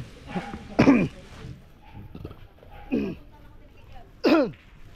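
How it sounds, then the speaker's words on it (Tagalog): Three separate harsh coughs break through a quiet room, spaced a second or two apart, close and loud. "Hindi na mawala ang ubo, hindi pa rin mawala ang sipon."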